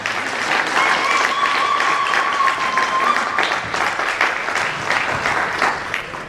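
A hall audience gives a loud, sustained ovation of dense applause that carries on steadily throughout, with faint voices beneath.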